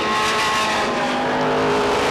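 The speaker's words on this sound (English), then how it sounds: "Now Randall puts the move on the outside" Stock race cars roar around Beech Ridge Motor Speedway, a loud continuous engine drone with harmonic whine from close-by cars, steady throughout with no talk.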